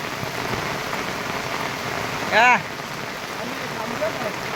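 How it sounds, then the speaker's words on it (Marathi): Steady heavy monsoon rain in the Konkan region hisses evenly throughout, with a brief tonal call or voice-like sound rising out of it midway. "पाऊस एवढा जोरात आहे की काय"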